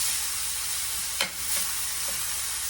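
Ground beef hamburger meat browns in a pan with a constant bright sizzle, broken once by a short scrape as the meat is stirred and spread out.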